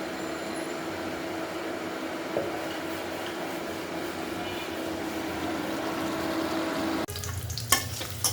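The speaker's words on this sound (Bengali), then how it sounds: "আলু দিয়ে একটু কষিয়ে তারপর ঝোল দিয়ে দিব" Potatoes sautéing in a pot with a steady, dense sizzle and frying hiss throughout, broken near the end by a few stirring clatters as the pan noise shifts.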